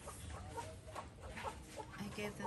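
Chickens cluck softly in short, scattered calls while they are fed, with faint background noise and no clear speech.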